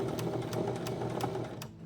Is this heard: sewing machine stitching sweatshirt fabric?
yes